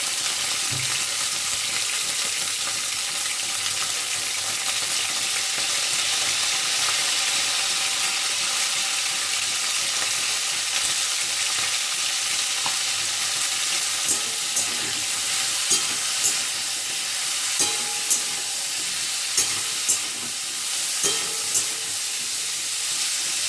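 Cauliflower fries in a pan with salt and turmeric, giving a steady hissing sizzle throughout, with occasional spatula taps and scrapes growing more frequent near the end, close and without voices.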